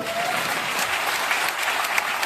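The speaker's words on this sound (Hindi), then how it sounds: "खुद के लिए जोरदार तालियां बजा दो।" A crowd at a car-themed motivational event applauds loudly, a thick steady burst of clapping with no voices over it.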